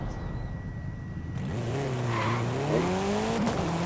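A car in Forza Horizon 5 accelerates from a steady rumble into a rising engine whine that climbs through the gears, loud and close, with a brief tire squeal.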